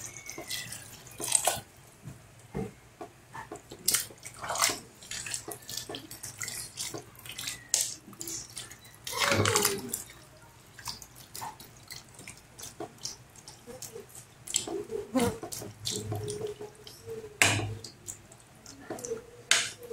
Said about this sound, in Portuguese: vou adicionar agora, gente, mais um pouco de água aqui